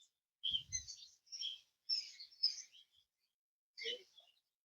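Birds chirp and tweet in a zoo aviary holding parrots such as Quaker parrots, several short bright calls in a loose sequence of bursts with brief pauses, fairly clear against a quiet background.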